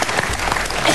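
Studio audience applause on the 2008 Greek TV dating show Ραντεβού στα τυφλά: a dense, steady burst of clapping, loud and close throughout the brief moment.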